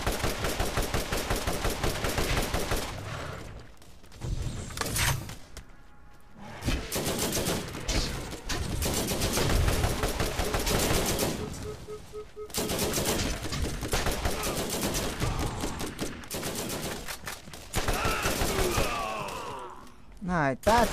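Gunfire in the video game Borderlands rattles out in dense, rapid bursts, with short pauses between volleys and a loud, sustained barrage through most of the stretch.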